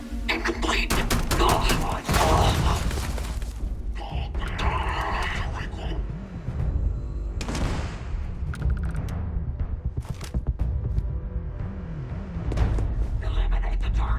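Bursts of automatic video-game gunfire crackle in rapid volleys with heavy thumps and grunts, dense and loud throughout, alongside game voice lines.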